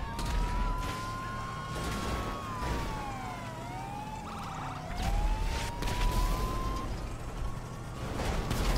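A police car siren wails in a video game, its tone sweeping up and down continuously for several seconds under crashing game noise and scattered thumps.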